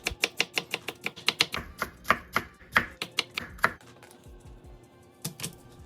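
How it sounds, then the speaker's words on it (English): A knife finely chops a whole onion on a board, with rapid, evenly spaced sharp taps up close, a brief pause, then a few final strikes, without any talking. "Now we want to finely chop 1 whole onion."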